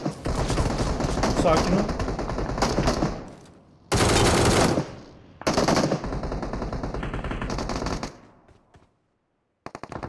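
PUBG Mobile gunfire crackles in rapid full-auto bursts, loud and close, with brief pauses between volleys before a final shot at the very end, while a player speaks briefly over the shooting.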